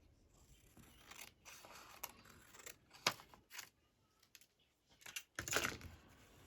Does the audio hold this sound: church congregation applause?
no